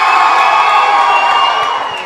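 A small crowd at a livestreamed fighting-game event roars with cheers and whoops, loud and sustained, easing off slightly toward the end.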